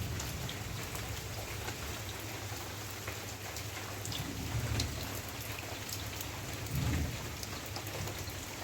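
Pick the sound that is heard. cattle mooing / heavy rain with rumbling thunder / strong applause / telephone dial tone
heavy rain with rumbling thunder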